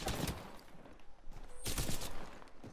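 Shotgun blasts from a gold Peacekeeper in the video game Apex Legends, several loud sharp bangs spaced irregularly across a busy firefight with continuous background game noise.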